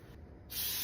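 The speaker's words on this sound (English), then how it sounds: "I'm going to spray it with this stuff because it already has the flour in it." Flour-infused baking spray hisses from an aerosol can into a cake pan for a banana upside-down cake, a short loud continuous burst starting midway, close to the mic.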